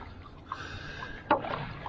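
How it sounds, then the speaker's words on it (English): A boat is paddled across water, with two soft splashing strokes, the second stronger, over quiet, faintly rushing background. "We're paddling into the light"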